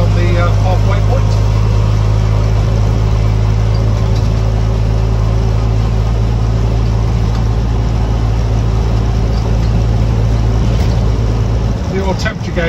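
A 1971 Land Rover Lightweight engine idles steadily and evenly for the whole stretch, a low continuous rumble with no misfires, loud and close, with a brief shift in tone near the end.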